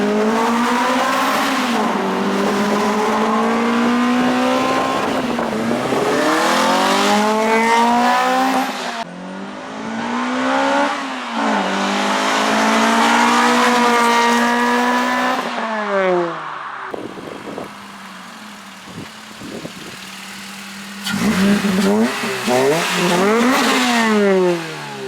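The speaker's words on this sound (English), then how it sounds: "Toyota Celica GTS 2005 exhaust." A 2005 Toyota Celica GT-S with an aftermarket exhaust accelerates hard through a tunnel, its engine note rising in loud, echoing sweeps, easing off between pulls and revving up again several times.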